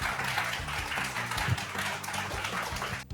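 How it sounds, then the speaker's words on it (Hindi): A live audience applauds to welcome the first guest, film director Sudipto Sen, onto the stage at an evening event, steady dense clapping throughout that drops away abruptly at the end. "जोरदार तालियों के साथ"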